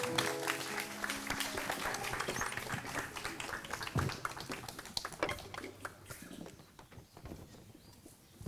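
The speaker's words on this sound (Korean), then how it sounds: "포레스트 어린이 앙상블 박수로 청해 보겠습니다." An audience at the opening ceremony of a forest wellness festival applauds a children's ensemble. Dense, continuous clapping fills the space, then thins and fades toward the end.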